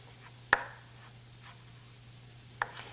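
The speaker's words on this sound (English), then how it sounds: "And just give them a nice little chop, mince them up." A knife chopping and mincing garlic cloves on a cutting board, two sharp separate knocks spaced about two seconds apart with faint quieter taps between, over a low steady hum.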